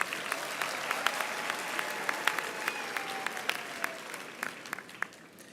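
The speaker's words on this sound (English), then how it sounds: "Let's give the artists another round of applause" Audience clapping for performing artists at a university graduation ceremony afternoon session, sharp individual claps standing out over a fairly soft, steady ovation that thins toward the end.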